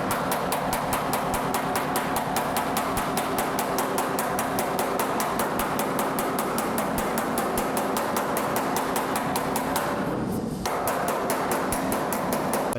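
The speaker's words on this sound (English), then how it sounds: "we just run the slapper and we're going to run it sideways" Metal body slapper beaten rapidly and evenly against a sheet-metal panel of a 1973 Dodge Challenger during bodywork restoration, a loud, close, continuous train of sharp impacts with one brief pause near the end.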